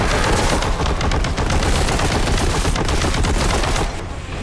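A heavy bolter fires in the Warhammer 40K: Boltgun video game, a loud, continuous stream of rapid booming shots that carries dense and unbroken for several seconds before easing slightly at the end.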